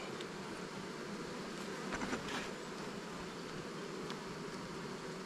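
A full beehive in a spring apiary gives off a dense, continuous buzzing of many bees, steady and close throughout with no voices.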